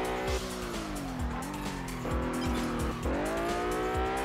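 A Lamborghini Miura races in Test Drive Unlimited on PS2, its engine droning loudly and continuously with rising and falling pitch as it shifts gears and corners, mixed with thumps and the tires' scrub.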